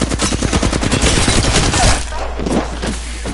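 Rapid automatic gunfire in an Apex Legends match, loud and close, with dense bursts of shots at first that then taper into scattered, more distant shots.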